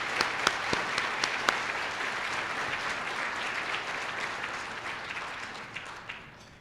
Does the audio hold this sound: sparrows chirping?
no